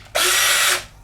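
A power drill whirs at high speed in one brief burst of under a second while drilling a screw hole in a rock-crawler slider, then spins down.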